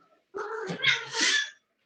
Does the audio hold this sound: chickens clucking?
no